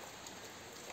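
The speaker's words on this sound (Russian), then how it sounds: "в деревне Гадюкино опять идут дожди" Steady rain falling outdoors in a village, a dense, even hiss of drops on surfaces with no breaks or voices.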